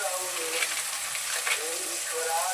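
Onion, tomato, cumin, mustard seeds, green chilli and turmeric fry in a pan with a steady, dense sizzle that holds evenly throughout.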